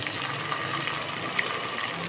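Chopped, peeled tomato goes into a hot pan of loki (bottle gourd) sabzi, giving a steady, fairly quiet sizzle that runs evenly throughout before a brief louder clatter at the very end.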